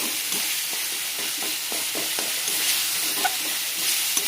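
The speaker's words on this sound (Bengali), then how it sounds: "এবার মশলাটা ভালো করে কষিয়ে নেব।" Spice paste with chilli powder, tomato, salt and turmeric frying in a pan, a dense steady hiss of sizzling oil with faint regular stirring scrapes underneath, close and even throughout, no voices.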